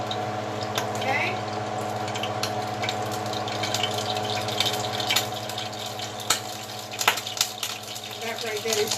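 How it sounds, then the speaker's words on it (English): Water drips and splashes at an outdoor street taco stand while food is prepared, a steady wet wash with scattered sharp drop sounds, a few louder toward the end, close by with faint voices in the background. "that right there is just water dropping"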